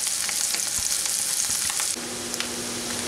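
Mushrooms and onions sizzle steadily in a hot pan, a dense bright crackle with small stirring clicks, close and alone without any talk.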